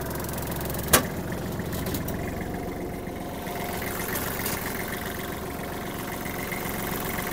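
A Kubota GL-320 mini tractor with a 1.5-litre D1503 diesel engine idles in an even, low rumbling drone, steady and moderately close, with a single sharp click near the start.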